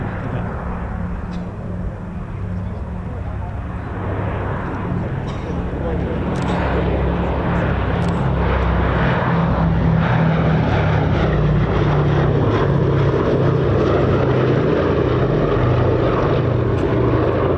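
A vintage propeller aeroplane flies past at an airshow, its engine drone loud and sustained, swelling steadily nearer throughout, while a commentator talks over it.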